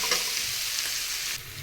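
Fish oil, potato, brinjal, tomato and onion fry together in a pan for a fish curry, giving a dense, steady close-up sizzle with light stirring scrapes.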